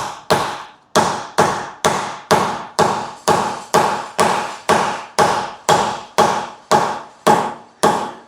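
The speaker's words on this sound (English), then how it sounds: "Get our dead blow hammer again." A dead blow hammer tapping a metal collar into a Ford Fiesta MK7 rear axle bush, about fifteen sharp, evenly spaced knocks close by, each decaying quickly, with no talk.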